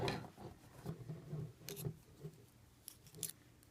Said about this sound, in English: we're going to get our scissors here. Go ahead and cut